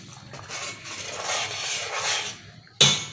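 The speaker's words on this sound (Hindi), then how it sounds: "मैं इसको चला दूंगी" Kofta gravy with added water being stirred in a cooking pot: soft, continuous swirling and scraping, then one sharp clank of the utensil against the pot near the end. No voices.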